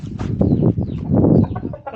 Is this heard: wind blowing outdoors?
no